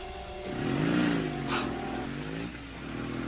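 A motorcycle starts up and pulls away in a rising rev sweep, then settles and fades off into a lower steady hum, with a brief higher whine in the middle.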